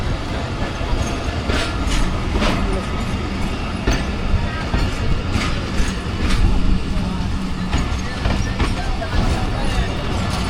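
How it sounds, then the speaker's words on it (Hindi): The 20 Down Khushhal Khan Khattak Express rolls past at Attock City Junction, a loud sustained rumble with clattering wheels and occasional squeal, a voice talking over it. "ये जी 20 डाउन खुशहाल खान खटक एक्सप्रेस जा रही है कराची की तरफ"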